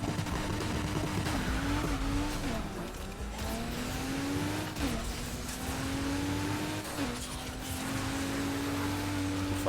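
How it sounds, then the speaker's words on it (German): Video game race cars on triple nitro boost, engines droning loud and steady with repeated upward pitch sweeps as they accelerate and shift, tire noise underneath, continuous throughout. "Die fahren alle mit dreifach Nitro."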